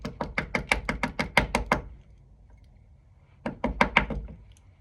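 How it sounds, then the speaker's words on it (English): Pins are knocked out of a Defiant quick-rekey lock cylinder, giving a quick run of about ten sharp, close knocks, a pause, then a second burst of roughly six taps. "All you got to do, just knock your pins out"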